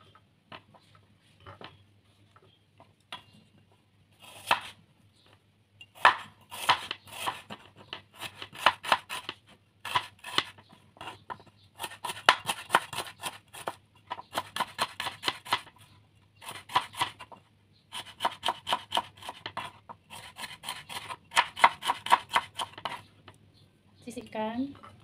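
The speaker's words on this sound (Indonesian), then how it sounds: "Lanjut potong bawang merah." A knife chops shallots on a cutting board in quick bursts of sharp, close taps, with short pauses between rapid runs of strokes, fairly quiet overall.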